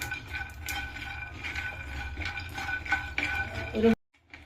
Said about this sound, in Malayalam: കപ്പലണ്ടി മൂത്ത് വരുന്നു